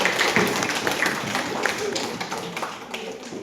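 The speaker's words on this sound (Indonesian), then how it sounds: "Ya, kasih aplaus dulu untuk Putri" Students at SMAN 1 Batang Angkola giving a round of applause for a classmate named Putri, a steady wash of clapping from a small indoor audience, moderately loud with some voices underneath.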